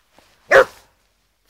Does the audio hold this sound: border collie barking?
yes